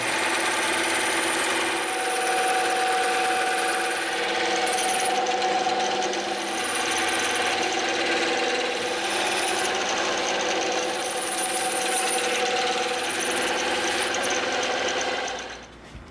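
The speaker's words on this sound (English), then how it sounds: "we are gonna take this over to the bandsaw. Whew, and we're gonna cut this whole piece out." A bandsaw cuts through a thick block of EVA foam, a steady, loud mechanical whir and buzzing drone that continues for the full length before winding down at the very end.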